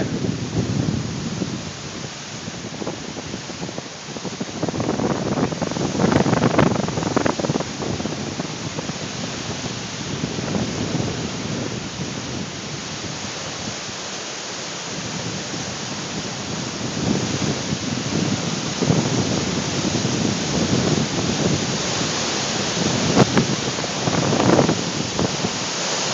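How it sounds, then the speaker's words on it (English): Strong wind in a sandstorm buffets the microphone with loud, continuous gusty rushing and roaring that swells and eases in waves, with no voices. "it's a pretty strong wind."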